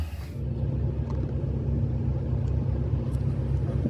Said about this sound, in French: Toyota Mega Cruiser de l'armée japonaise